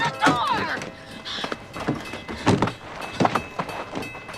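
Train from the 2000 film Final Destination bearing down on a car stalled on the tracks, a sustained horn-like tone rising under excited shouting and screams, with rumbling bursts and clanks.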